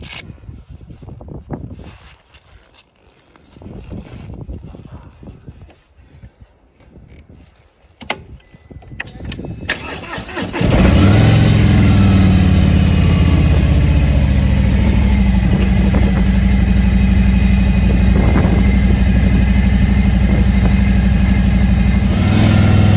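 A 2021 Harley-Davidson Road King starts about halfway through after some quieter rustling and handling noises. The engine then settles into a loud, steady rumble that continues to the end as the ride begins.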